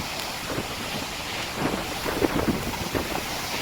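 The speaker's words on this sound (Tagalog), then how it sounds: "Grabe, lakas parang hangin ngayon." Strong typhoon wind at the sea during Super Typhoon Uwan, a steady broadband roar with gusty surges and buffeting against the microphone, close and continuous with no voices.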